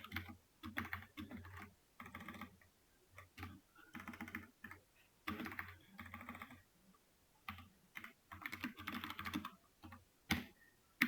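Rapid bursts of keystrokes on a computer keyboard while Python code is typed, clattering in uneven runs with brief pauses between them, close and clear with no talking.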